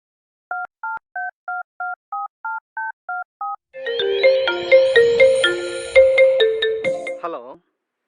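A phone keypad beeps through about ten evenly spaced dialing tones, then a loud melodic ringtone plays for several seconds before cutting off.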